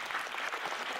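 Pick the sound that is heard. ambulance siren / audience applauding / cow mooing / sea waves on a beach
audience applauding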